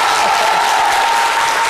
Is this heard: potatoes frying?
no